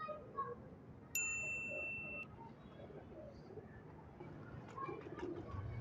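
Star fancy pigeons coo softly in the background while a brief electronic beep sounds once; the setting is quiet and close.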